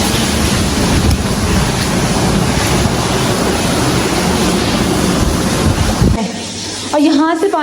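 Rainwater from a roof pours down in a heavy, rushing torrent during a downpour in Karachi, loud and close. The flow cuts off abruptly near the end, and a voice briefly speaks.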